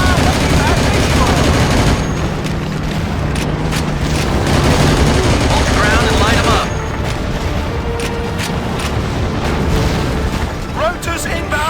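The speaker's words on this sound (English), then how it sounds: "Heavy small arms all over my post!" Heavy small-arms fire in Battlefield 2: Modern Combat, with rapid bursts, booming blasts and pops packed into a loud, unbroken battle din, and voices talking over the fighting.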